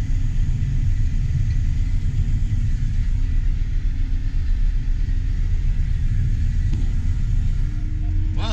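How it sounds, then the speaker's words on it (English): Steady low truck engine rumble during a corn harvest as a truck pulls up beside a full grain cart, continuous and fairly loud with no talk. "The grain cart's full and another truck's pulling up here."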